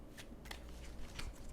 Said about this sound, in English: All right, 1 more shuffle.